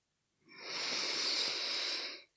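Single slow breath during a guided meditation, a soft airy exhale that swells and fades over about two seconds, close and quiet with no talking.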